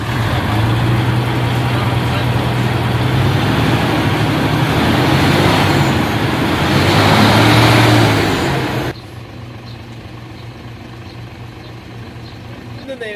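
A 10-wheeler truck engine treated with Wonderlube additive runs with a loud steady low rumble, dropping sharply to a quieter idle partway through, while voices talk close by.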